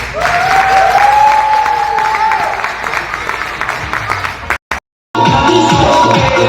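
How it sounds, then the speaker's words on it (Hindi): Audience applause at a company's second anniversary celebration as a guest is invited onto the stage, a loud sustained clapping that fills several seconds, drops out briefly, then resumes. "ट्विंकल के लिए जोरदार ताली बजाओ।"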